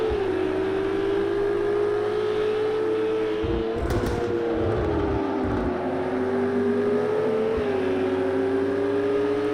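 A race car in Project Cars 2 at the Barcelona circuit accelerates hard, its engine droning steadily at high revs with a brief rougher burst midway, loud and continuous with no talk.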